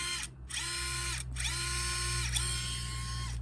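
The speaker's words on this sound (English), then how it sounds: "slow crawl, but for a brushed motor, I mean, it's so smooth." A brushed motor in an RC crawler runs at a slow crawl, giving a steady, smooth whine with repeated gentle rises and falls as the throttle eases on and off. It sounds close, quiet and even, with no talk over it.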